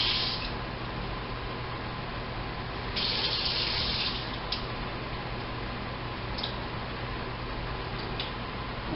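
Water runs steadily in a thin stream into a pot, with a few brief splashy bursts, close by and alone.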